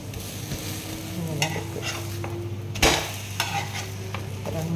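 Whole spices such as cumin roasting and being stirred in a hot pan, with a steady sizzle, scraping spoon strokes and a few sharp clanks near the end, while a voice speaks briefly.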